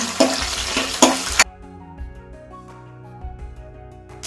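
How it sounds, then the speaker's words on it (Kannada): Sliced onions sizzle in hot oil in a pan over a medium flame, with loud stirring scrapes in the first second and a half, then a quieter steady fry under a tonal backing. "ಅದಕ್ಕೆ ಸ್ವಲ್ಪ ಈರುಳ್ಳಿ ಹಾಕೊಳ್ಳೋಣ ನಾವು ಮೀಡಿಯಂ ಫ್ಲೇಮಲ್ಲಿ ಹುರ್ಕೊಬೇಕು ಯಾವಾಗಲೂ"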